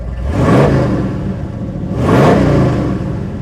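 A 1971 Chevrolet Camaro engine revs hard twice with the exhaust cutout open, each rise swelling into a loud, raspy exhaust roar before falling back, close by.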